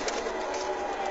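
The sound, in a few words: Shahzada breed pigeon cooing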